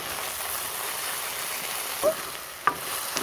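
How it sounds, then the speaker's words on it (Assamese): Elephant apple fries in a pan with onion and turmeric, giving a soft, steady sizzle with two brief scrapes of a stirring spoon near the end. "তাৰপিছত এয়া ঔটেঙা ভাজি আছোঁ।"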